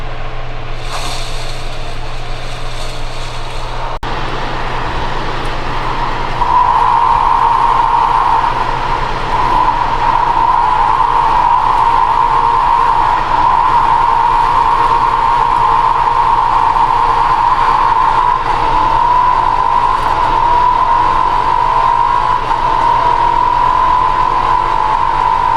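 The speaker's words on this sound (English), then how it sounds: "this is a turbofan cooling pad from some other brand. You can hear that it's so noisy at 2800 RPM." A turbofan laptop cooling pad running at 2800 RPM gives a loud, steady whirring drone with a prominent tonal whine that settles in after a few seconds and holds unbroken to the end.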